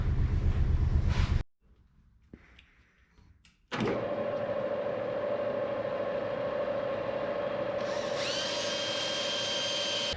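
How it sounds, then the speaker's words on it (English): Wood is sanded with 240-grit sandpaper: a short loud burst, a quiet pause with faint handling, then a steady droning motor whine that runs on without a break. "let's see if we can try and make it into something less disgusting with sandpaper"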